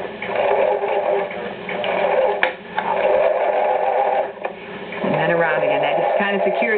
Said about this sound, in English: is do some back stitching so we don't lose our stitching